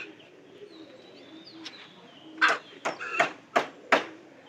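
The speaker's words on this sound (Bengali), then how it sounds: "এই যে একটা কবুতর" Pigeons outdoors, released from their lofts and settling in trees: soft cooing at first, then four or five sharp flapping bursts of wings close by.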